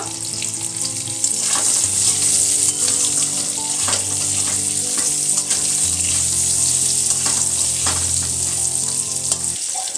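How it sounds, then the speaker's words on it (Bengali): Potatoes frying in oil with salt and turmeric give a loud, steady sizzle close by, with bubbling crackle and a few stirring scrapes throughout and a low hum underneath. "ওই তেলের মধ্যে এবার আলুগুলো ভেজে নেব লবণ দিয়ে দেব হলুদ গুঁড়ো দিয়ে দেব"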